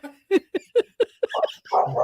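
Dogs barking at another dog passing by: a quick series of about six sharp, close barks in a steady rhythm, breaking into whiny yips and whimpers at the end.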